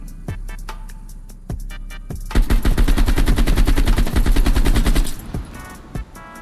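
Rapid automatic gunfire in a team deathmatch video game, played on PC with a PS5 controller: sharp single shots first, then a loud sustained burst of several seconds, tapering back to a few isolated shots.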